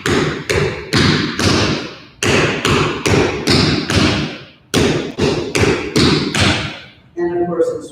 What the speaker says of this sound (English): So that whole break phrase is scuff, spank, step, heel, heel, heel, toe, toe.